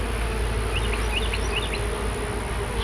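Honey bees hum steadily at an open hive during an end-of-May inspection, a close, dense drone with a few individual insects whining past near the microphone, and no voices.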